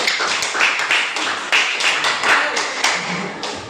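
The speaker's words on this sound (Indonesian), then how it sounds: "Tepuk tangan dulu kelompok 2." A classroom group claps briefly for the second group, a scattered, uneven patter of hands at close range that thins out over a few seconds.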